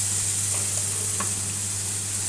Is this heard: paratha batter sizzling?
yes